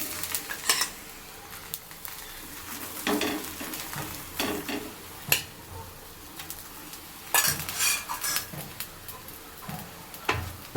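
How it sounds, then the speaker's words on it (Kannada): A methi paratha roasts on a pan over low flame, with soft intermittent sizzling and occasional scrapes and clinks of a spatula against the pan, close by and fairly quiet, with no voices. "ಲೋ ಫ್ಲೇಮ್ ಇಟ್ಕೊಂಡು ಸುಟ್ಕೊಳ್ಳಿ ಚೆನ್ನಾಗಿ"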